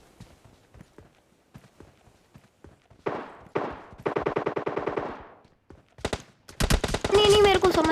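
Gunfire in the mobile game PUBG Mobile Lite: scattered footstep-like taps give way to single shots and then a sustained rapid automatic burst, followed by more fire mixed with other game effects, fairly loud and close.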